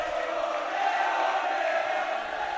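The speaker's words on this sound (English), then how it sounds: "Listen to the crowd as they come alive at the Rizal Memorial Stadium" Crowd at Rizal Memorial Stadium during a Philippines Football League match between Kaya FC-Iloilo and Stallion Laguna FC, a steady distant roar of cheering voices that fills the whole stretch.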